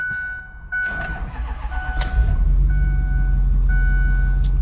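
A Ford 6.4 Powerstroke diesel pickup truck engine cranks briefly, catches and fires up, then settles into a steady, deep idle rumble close by.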